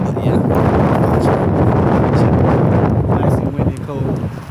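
Cold wind buffeting a microphone outdoors near the Golden Gate Bridge in San Francisco, loud continuous low rumbling gusts with a person talking underneath, easing slightly toward the end.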